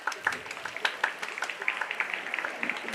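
An audience at the Living Arts Centre claps together, a dense, fairly even spatter of hands that rises and falls gently for a few seconds with no voices over it.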